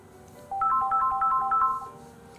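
A phone ringtone plays a repeating electronic melody of bright, evenly spaced tones for about a second and a half, loud and close, with no talking over it.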